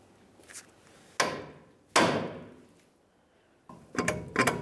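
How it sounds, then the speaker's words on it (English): Sharp metallic hammer blows strike the steering knuckle of a 2005-2010 Dodge Dakota to free a ball joint stud, a few spaced hits with ringing decay, ending in a quick double strike. "We'll continue on with our hammer and cause some vibration on the knuckle."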